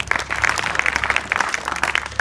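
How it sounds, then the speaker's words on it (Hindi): A room of students claps together in a brief, steady burst of applause, busy and fairly loud throughout. "ताली बजाओ इनके लिए एक बार और।"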